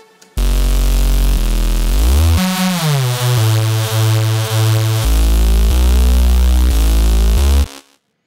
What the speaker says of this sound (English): Today I'm going to show you how to make the Fuzz Reese